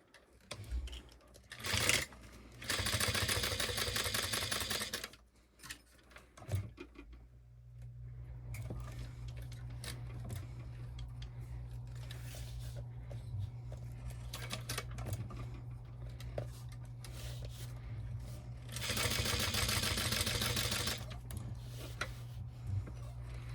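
A sewing machine stitches fabric for a custom cat-themed fabric pack, running in two fast, steady bursts of rapid needle clatter with a low motor hum carrying on between them.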